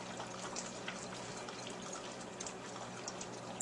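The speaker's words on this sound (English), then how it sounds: "We got a frying pan here, and we're gonna just put some olive oil." Olive oil pours into a frying pan with a soft, steady liquid hiss and trickle, fairly faint and continuous, with no talking.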